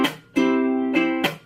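A ukulele is strummed in sustained, ringing chords broken by sharp percussive chucks where the strings are muted, played close and clear with no voices.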